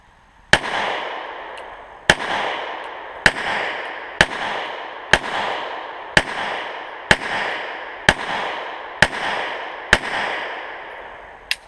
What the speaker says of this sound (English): I'm going to shoot these in single action.